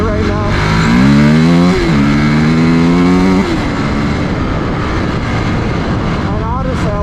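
A 250cc dirt bike rides in second gear on flat ground, its engine droning loud and close with rising and falling revs through a few throttle changes, with the rider's voice briefly over it.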